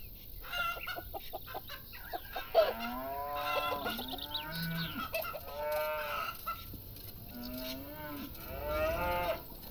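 Cows mooing in the farming video game Farm Manager 2018, several drawn-out moos overlapping at moderate distance, with chickens clucking and a rooster in the background.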